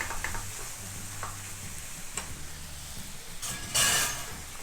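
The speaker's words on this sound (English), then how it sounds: "So what we are going to do is we are going to add our meat. Add it to the pan." Ground meat sizzles in a hot pan, a steady fry punctuated by scraping stirs and a few clinks of the utensil, with a brief louder burst of sizzle near the end.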